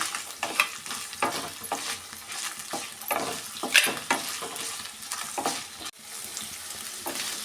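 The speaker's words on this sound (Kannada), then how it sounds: "ಇದನ್ನೆಲ್ಲ ಸೇರಿಸಿ ಸ್ವಲ್ಪ ಚೆನ್ನಾಗಿ ಫ್ರೈ ಮಾಡ್ಕೊಳ್ಳೋಣ" Tomatoes and garlic fry for tomato chutney, giving a continuous loud sizzle broken by repeated scraping stirs in the pan.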